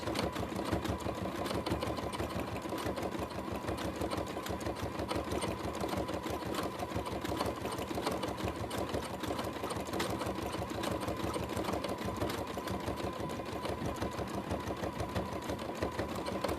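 A sewing machine stitching fabric pieces for a horse collage, a fast, steady mechanical whirr with rapid needle ticks running without pause, moderately quiet and close.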